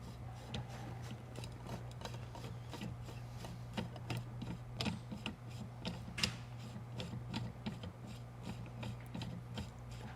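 A screw is turned out of the piston of an Eaton Carter ground fueling hose end pressure control valve, giving faint, close, irregular ratcheting clicks and ticks over a low steady hum, with no speech.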